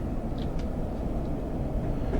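A Class 101 diesel multiple unit runs between Radstock and Frome Market in Train Sim 2021, giving a steady close rumble of engine and wheels with faint clicks along the track.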